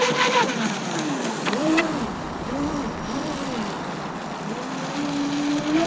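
A radio-controlled flatbottom drag boat runs across the water with a high, whining electric-motor tone that rises and falls through several passes, steady and fairly close.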